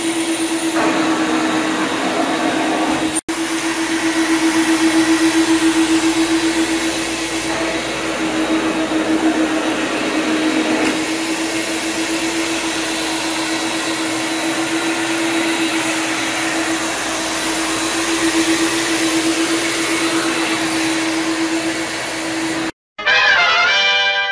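A floor machine stripping a vinyl composition tile floor, a loud continuous motor whine with a steady tonal hum, running close and unbroken for most of the time, with a brief cut near the end and no talking.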